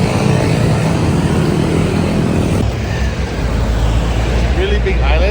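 Heavy road traffic in Phuket rumbles loudly and without a break, cars and motorbikes passing close by, with a voice talking over the engine noise.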